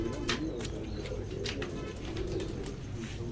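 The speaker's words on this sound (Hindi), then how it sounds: "ये कबूतर आप देख रहे हो जो ये मेरे घर का कबूतर है" A golden-cross pigeon coos in repeated soft, low phrases close by on a rooftop, steady throughout with a few faint chirps from other birds in the background.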